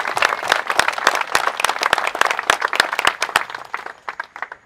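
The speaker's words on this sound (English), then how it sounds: "that's another round of applause for Danny" Applause from a crowd at a Platoon 22 speaking event, lively clapping from many hands that starts strong and gradually thins and fades out toward the end.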